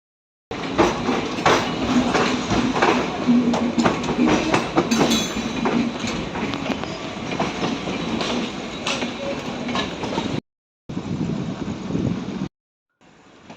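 Super fast express train running between Coimbatore and Thiruvananthapuram near Palakkad Junction, heard from inside the carriage as a continuous loud rumble with rhythmic clickety-clack of wheels on rail joints, broken by two brief cuts near the end.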